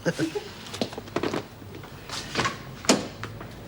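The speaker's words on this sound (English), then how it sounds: "I've got to open the door to get out, don't I?" A door is opened in a scene from the TV prison drama Prisoner: Cell Block H, giving a string of close clunks, knocks and thuds, with a louder knock near the end, and faint voices in the background.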